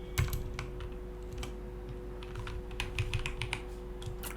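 Computer keyboard keys clicking as a git remote add command is typed, steady irregular tapping up close with small bursts of faster strokes, heard alone over a faint electrical hum.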